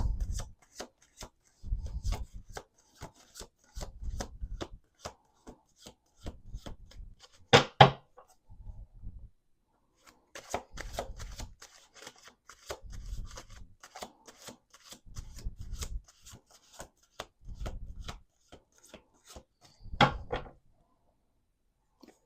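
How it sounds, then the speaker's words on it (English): Repeated rounds of tarot cards being shuffled by hand, soft rhythmic rubbing bursts separated by short pauses, with a couple of sharper riffles. "do 2 more shuffles"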